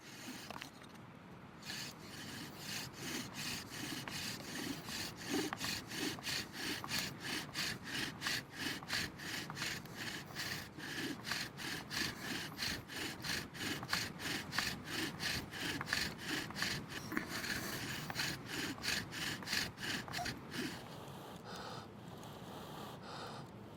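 A bow drill spinning a wooden spindle against a wooden fire board, a steady rapid back-and-forth rasping stroke that repeats for over twenty seconds, close and fairly quiet, with heavy breathing audible underneath.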